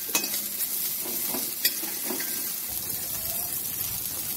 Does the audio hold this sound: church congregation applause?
no